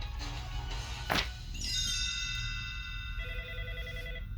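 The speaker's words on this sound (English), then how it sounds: "A few minutes later, the phone rang." A telephone rings in a cartoon read-along: a bright electronic warble of sustained ringing tones after a short whooshing thunk, clear and alone without voices.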